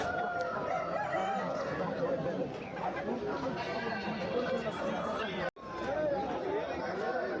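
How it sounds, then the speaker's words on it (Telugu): Roosters and chickens at a Sunday poultry market, including a red full-bodied Chittoor rooster, calling amid busy crowd chatter and voices, with a steady dense din and a brief dropout near the end. "పుంజు"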